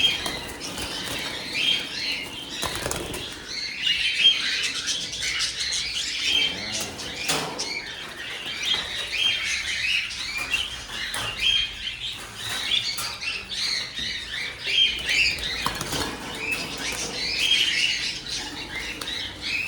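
Birds squawking and chirping near a nest box, with soft wing flaps and pattering scattered through a steady busy chorus, close by and moderately loud.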